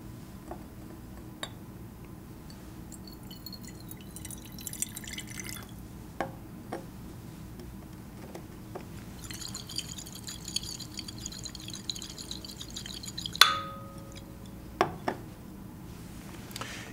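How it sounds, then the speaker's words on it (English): Clear lime water poured from a container into a glass flask during a candle chemistry demonstration: quiet trickling and scattered drips, broken by several sharp glassy clinks, heard close with no speech. "If I take some of this beautiful, clear lime water and pour it into this flask"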